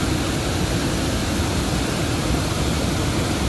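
Kaeng Song waterfall beside a road in Wang Thong, Phitsanulok, Thailand, roars as a dense, steady rush of falling water, loud and unbroken with no voices.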